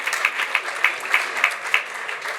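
Applause from an audience in a meeting room: a steady patter of clapping with regular louder bursts, moderately close, with no talking over it.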